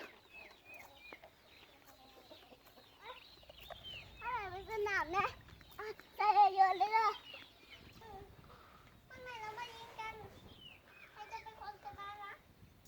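Chickens cluck and call in repeated bursts at a Songkran water play among children, fairly close and moderately loud, mixed with children's voices and splashing.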